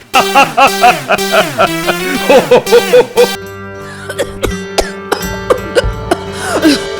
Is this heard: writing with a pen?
no